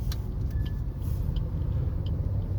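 A car rolls along with a steady low engine and road rumble during a driving lesson, with brief faint clicks and no voices.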